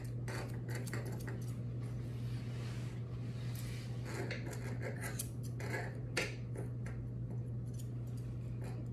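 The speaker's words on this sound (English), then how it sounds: "So I'm gonna keep the feet on the floor to trim them" Scissors trim a Lhasa Apso's feet in a series of quick, faint metallic snips, irregular and close, over a steady low hum, with no talking.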